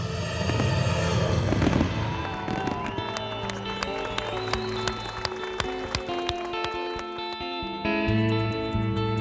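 Fireworks boom and crackle in rapid bursts close by over loud music at an event beneath the Arras belfry, with sharp pops repeating throughout.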